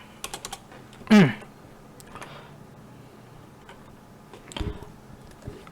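Keys on a computer keyboard are pressed while Python code is entered, with scattered soft clicks, a brief loud clack and a later burst of taps, all close and without speech.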